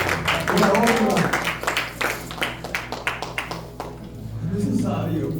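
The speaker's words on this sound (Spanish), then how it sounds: "Dale una ofrenda de palmas a su Dios, a su Rey." A church congregation claps together as an offering of praise to God, producing a steady rhythmic run of hand claps, with a voice speaking before and after.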